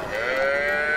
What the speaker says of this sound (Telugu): ఎర్ర ఆవులు